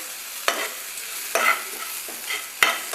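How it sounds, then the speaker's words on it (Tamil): Horse gram, sesame seeds, cumin, coriander and curry leaves sautéing in a pan: three distinct spatula scrapes over a soft, steady sizzle, close and fairly quiet. "இப்போ இது நல்லா வதங்கிடுச்சு எல்லாமே சேர்ந்து எள் கொள்ளு ஜீரகம் மல்லி கருவேப்பிலை எல்லா வாசமும் சேர்ந்து இதில் நல்லா வதங்கிடுச்சு"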